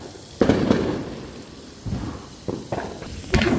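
Fourth of July firecrackers go off at night in several booming bursts, one after another at irregular intervals, each followed by a short rumbling decay.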